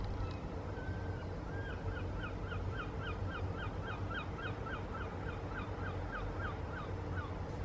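Seagulls calling inland, away from the shore, repeat a run of short, sharp cries in a steady rhythm for several seconds over a constant low rumble of background noise.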